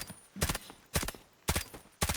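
Four evenly spaced single gunshots fired in the shooter game Delta Force, each a loud sharp crack with a short tail, about half a second apart and heard alone.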